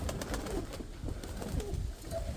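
Pigeons cooing outdoors, low soft coos repeating through a steady windy background.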